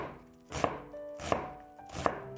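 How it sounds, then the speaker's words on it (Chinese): A knife dicing half an onion on a cutting board, three crisp, evenly spaced chops ringing out close and clear in a quiet kitchen. "再准备半个洋葱，先切成粗粗的细丝，再改刀切成小碎丁"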